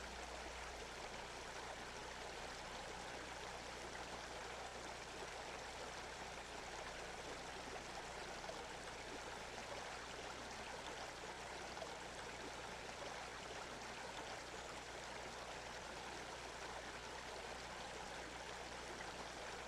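A quiet mountain stream flows steadily in a redwood forest, a constant soft rushing and trickling of water that stays even and unbroken throughout, with no voices.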